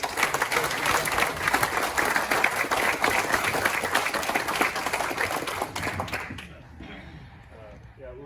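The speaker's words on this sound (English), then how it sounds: "So I think we need to give a round of applause to these 3." A room full of people claps steadily for several seconds, the applause thinning out and fading near the end.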